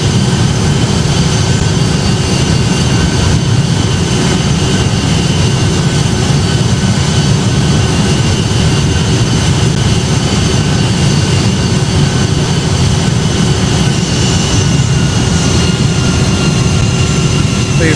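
In the Project Flight game, a Boeing 757's jet engines produce a loud, steady roar during the climb, a dense unbroken rush with a faint whine on top, with no talking.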